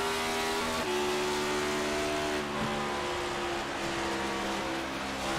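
On-board race car engine at Darlington in an MPI Cup Series race, held loud and steady at high revs with a brief lift before going back onto the throttle, a continuous close roar with no talk.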